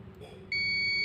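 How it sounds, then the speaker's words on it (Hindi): Multimeter in continuity mode emits a steady high-pitched buzzer tone that starts abruptly halfway through and holds to the end, over low background hum, close and clear. "देखो बजर का साइन आ रहा है, आपको सुनाई दे रहा होगा।"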